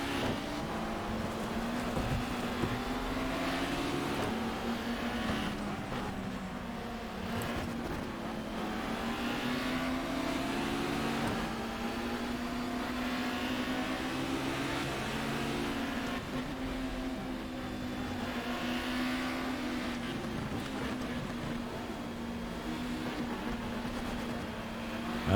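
Race cars in GTR 2 during a 1994 BTCC touring car race at Brands Hatch Indy: steady engine drone with rising and falling revs from several cars, continuous throughout with no talk.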